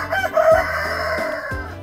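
A rooster crows on a free-range chicken farm, one loud drawn-out call close by, with fowl sounds around it and no talk.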